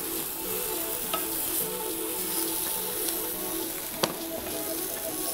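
Vegetables and meat frying together in a pan, a steady broadband sizzle held close and even throughout, with light stirring scrapes and a single sharp clink near the end; no voices.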